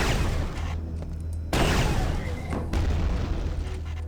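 A loud booming grenade explosion in Quake 2 RTX with a rumbling, noisy tail, followed by further heavy blasts, dense and close, like video game gunfire and grenades.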